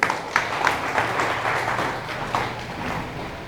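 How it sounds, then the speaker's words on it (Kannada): Loud, sustained applause from an audience at a Kannada chutuku poetry gathering, with dense clapping that swells in bursts and holds steady throughout. "ತಮ್ಮ ಜೋರಾದ ಕೈ ಚಪ್ಪಾಳೆಯೊಂದಿಗೆ"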